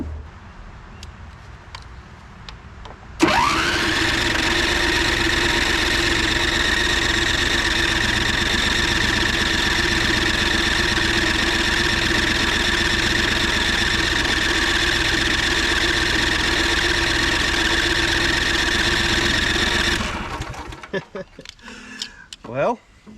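A 2011 Craftsman PYT 9000 lawn tractor engine starts abruptly and runs at a steady, loud idle for about seventeen seconds, then cuts out, with faint clatter before and after.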